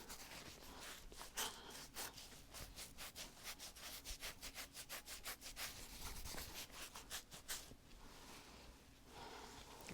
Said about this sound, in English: Can also give your scalp a rub, like a dry shampoo.